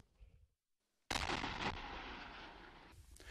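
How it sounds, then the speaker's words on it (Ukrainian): An artillery shell bursts at a nearby front-line position near the village of Zolote, a sudden heavy boom after a moment of near-silence that rolls on with a long rumbling decay, fairly distant and alone. "На сусідній позиції у напрямку селища Золоте добре чути, як рвуться снаряди"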